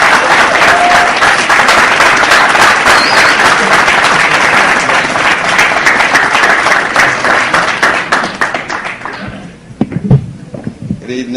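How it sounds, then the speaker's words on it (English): Loud, sustained applause from a large crowd, dense clapping that thins out toward the end as a few claps and murmurs remain. "let's give him a round of applause"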